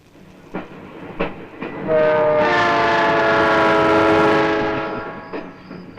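A train rumbles past with a loud, sustained horn blast in the middle, building up and then fading, with a few sharp clanks before and after.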